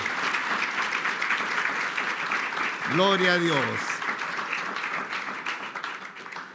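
A church congregation at a Spanish-language Bible study claps steadily in praise to the Lord, a wash of applause that continues while a voice calls out briefly in the middle.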